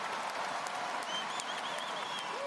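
A crowd at a basketball dunk contest applauds in a sustained roar of clapping, with a few whistles and shouts rising through the arena noise.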